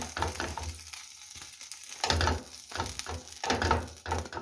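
Pancakes with cherries sizzling and frying in a pan, with scraping and stirring noises in irregular bursts, close and moderately loud.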